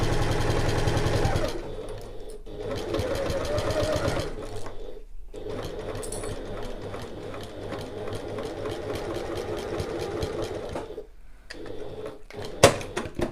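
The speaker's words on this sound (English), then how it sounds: "so I'm not sewing around the corner cutouts, I'm just going to move on to the second half" Sewing machine stitching a tote bag, running in steady bursts with short pauses between seams, close and fairly loud with no talking.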